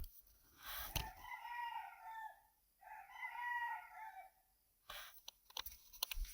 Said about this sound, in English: The roosters are doing their thing too.